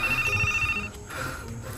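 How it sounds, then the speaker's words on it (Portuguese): A phone ringtone plays an incoming-call melody, a bright electronic tune heard close and clear for under two seconds with no talking over it. "Estão ligando pra mim."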